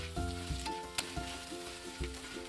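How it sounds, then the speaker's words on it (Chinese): Deep-fried prawns being stir-fried with a little salt over low heat in a wok, along with garlic, dried chilli and fermented black beans, in a steady close sizzle with no voices. "倒入炸好的大虾，放少许的盐，用小火翻拌均匀"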